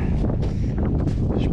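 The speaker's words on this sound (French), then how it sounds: "il y a un vent, mais glacial" An icy wind blows on the climb up Pico del Teide, Spain's highest peak, buffeting the microphone in loud, uneven gusts that roar and rustle close by.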